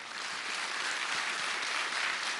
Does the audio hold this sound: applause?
yes